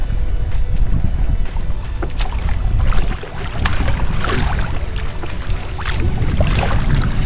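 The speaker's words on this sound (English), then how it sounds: "we generally see some fairly good sized boats coming through here." Fairly large boat passing on Adams Creek, a continuous close engine drone mixed with wind buffeting the microphone and splashing water, loud and steady throughout.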